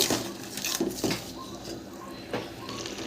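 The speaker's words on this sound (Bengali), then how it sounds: "আলু সেদ্ধ হয়ে গেছে এবার পাঁপড়গুলো ওপর দিয়ে দিয়ে দেব ভালো করে মিশিয়ে নেব" Papad being stirred into spiced potato curry in a pan: soft scraping and clinking of a spoon against the pan in a few irregular bursts, fairly quiet.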